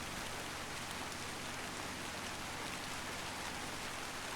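Steady, dense rain falls throughout a drive in the video game The Long Drive, a constant loud hiss with no talk.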